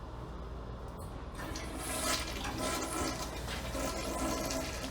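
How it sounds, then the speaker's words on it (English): A household toilet, likely clogged, flushes with a rushing broadband swirl of water that builds and stays loud over about five seconds, with no talking. "Once you've determined that you do have a toilet plug, flush the toilet."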